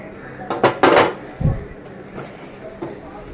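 Kitchen clatter from a pot being scrubbed clean of lentil residue: a few sharp scrapes and knocks of metal close by, with a brief low thump, then quieter rubbing.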